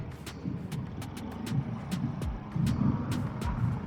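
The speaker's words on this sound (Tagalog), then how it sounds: "Traffic naman." Congested Philippine road traffic with cars and jeepneys near Alabang, Sapote and Baclaran: a low idling engine rumble with passing vehicle whooshes and repeated short clicks or ticks, moderately loud and close, no talking.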